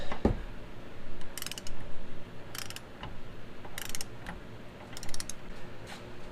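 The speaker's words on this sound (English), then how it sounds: "Got my torque wrench set to 44 foot-pounds." A torque wrench ratchets in short clicking bursts while tightening a tie rod on a Chevrolet Trailblazer, with several spaced ratchet runs and a knock at the start.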